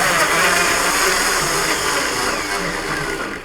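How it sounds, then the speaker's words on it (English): A blender blitzes watermelon for vodkaritas with no ice, a loud, steady high whirring roar that runs unbroken from start to finish and eases off slightly at the end. "put that directly into a blender, not with any ice, and then just blitz away"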